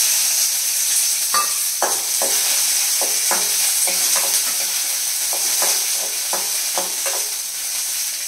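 Six or seven green chillies fry in hot oil with a steady loud sizzle, while a spoon stirs them in repeated scraping strokes spaced about half a second apart.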